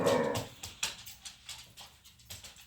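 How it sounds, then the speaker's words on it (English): A dog whimpers and yips softly indoors, a string of short, faint whines repeating at a steady pace with a slightly louder cry at the start. "I don't know if you can hear my dog."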